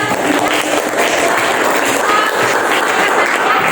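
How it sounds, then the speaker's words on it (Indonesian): Classroom of students giving a round of applause for groups 1 and 4, loud, close and continuous clapping from many hands that keeps a steady intensity throughout. "Kita beri aplaus untuk kelompok 1 dan 4."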